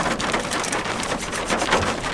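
Heavy rain pours steadily at an apple orchard, a dense hiss of drops pattering on surfaces close by, with no voices.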